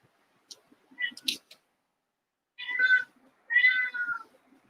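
Indoors, a domestic cat lets out two drawn-out meows close by, following a few soft clicks and taps.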